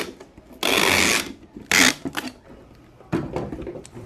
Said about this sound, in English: Going to use our trusty tape gun to seal her up.